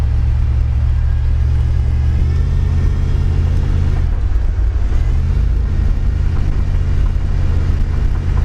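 A 1964 Dodge Custom 880 with an A727 pushbutton automatic transmission and a suspected sprag fault gives a loud, steady, low mechanical rumble and drone that wavers slightly midway, with no talking.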